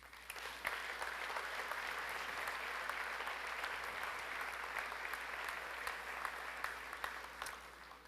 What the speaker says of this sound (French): je pense que vous pouvez vous donner une bonne main d'applaudissement